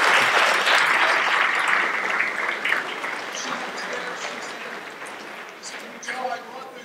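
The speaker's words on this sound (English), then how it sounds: "Let's give her a round of applause." A room full of people applauds at a high school awards ceremony, a dense steady clapping that slowly fades with some voices mixed in.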